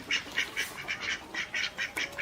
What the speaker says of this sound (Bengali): দেখিস কি সুন্দর হাঁস